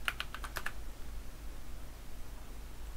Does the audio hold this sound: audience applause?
no